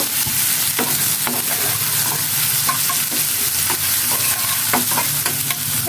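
Chopped onion and green chili fry in hot oil with a constant crackling sizzle, punctuated by intermittent scrapes and taps of a spatula stirring the pan.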